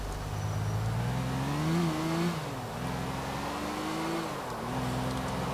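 A car engine in GTA IV held at full throttle, a steady loud drone whose pitch rises, dips briefly with a gear change and climbs again, continuous throughout.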